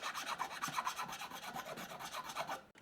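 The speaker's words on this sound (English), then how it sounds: "Be using the Crimson nut seating files." Nut seating files rasping in the nut slot of a 1990s Stratocaster-style guitar, quick back-and-forth scraping strokes close up, steady and unaccompanied until they stop abruptly near the end.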